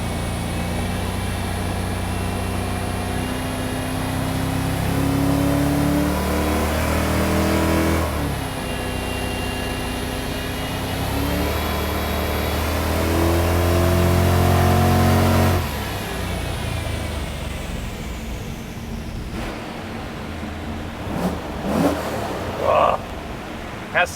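A Lexus IS600 with an LS V8 engine swap revs hard and close on a dyno, its pitch climbing and falling through sustained high-RPM pulls before easing off near the end.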